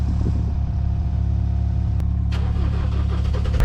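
A Ford Transit van engine catches and runs with a loud, steady, close rumble throughout, with a sharp transient partway through as it settles into a continuous idle. No one talks.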